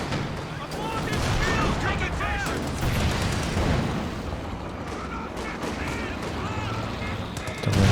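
Tank guns in the real-time strategy game Company of Heroes 2 fire in a busy 2v2 match, with repeated booming shots and rolling battle noise amid dense, continuous combat sound.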